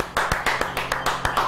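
A small audience claps to welcome a guest on a Pakistani TV comedy show, the claps falling in a steady, fairly even rhythm of roughly six distinct strikes, loud and close, with no talk over them.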